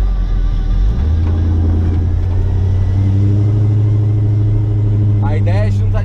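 A Ford Landau's engine rumbles deep and loud, its pitch climbing as the throttle opens to a strong, steady roar; someone talks over it.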